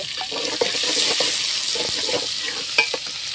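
Garlic paste stirred into onions already fried deep red for biryani, giving a steady sizzle of hot oil with scattered scraping clicks from the spoon against the pan.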